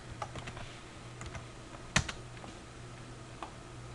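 Scattered keystrokes click on a computer keyboard, with a few light taps and one sharper, louder press midway, close and quiet with no talking.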